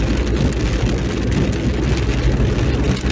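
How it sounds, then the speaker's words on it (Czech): Steady rain falls at a home in Kunovice, a dense, continuous patter of drops with a low rumble underneath, holding an even level throughout with no voices. "my jsme si přivezli krásně déšť"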